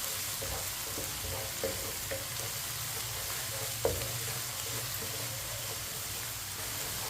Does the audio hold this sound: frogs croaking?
no